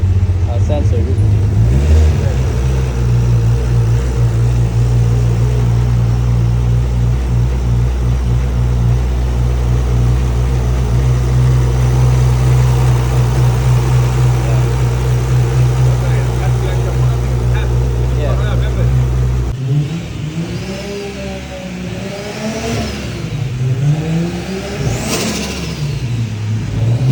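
Nissan Skyline R34 with a 550hp engine idling lumpy and loud up close, a deep uneven rumble that holds steady before shifting into revving swells near the end, with a voice talking over it.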